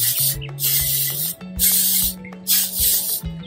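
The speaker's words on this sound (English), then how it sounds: "So I'm just going to use some spray oil." Four loud hissing bursts of cooking spray into a muffin tin, each lasting about half a second, separated by short pauses and close to the listener.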